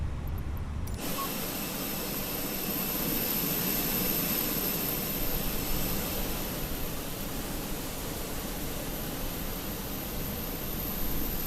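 Steady roar of Fenix A320 jet engines during pushback in Microsoft Flight Simulator, a broad constant whine and rumble that starts abruptly after a second and holds loud and unchanging to the end, with no talk.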